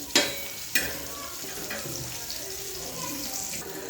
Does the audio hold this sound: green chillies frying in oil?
yes